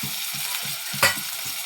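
Chopped onion and tomato frying in hot oil, a steady close sizzle with a sharp crackling pop about a second in, and faint low thumps repeating in the background.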